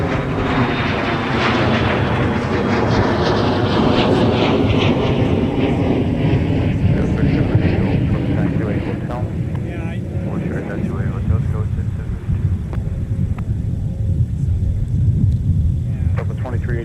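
A Delta airliner arriving at MSP airport roars past, a loud, broad rushing engine noise that sweeps downward in pitch as it passes and fades into a lingering rumble.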